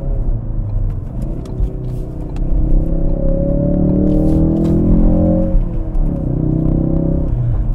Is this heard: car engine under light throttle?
yes